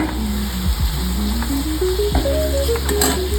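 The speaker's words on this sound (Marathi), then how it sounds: "अर्धा चमचा हळद आणि दोन चमचे आगरी मसाला टाकत आहे" Turmeric and Aagri masala sizzle loudly in hot oil in a pan for Aagri-style prawn curry, a close, steady frying hiss with occasional clinks of a spoon against the pan.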